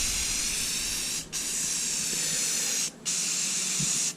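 Automotive primer sprayed in light coats onto a bass boat hull, a steady broadband aerosol hiss running nearly continuously with two brief pauses between passes, close and fairly loud with no talk.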